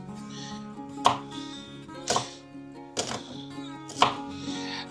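A knife strikes a cutting board four times at slow, even intervals, chopping an onion, with faint background hum between the sharp knocks.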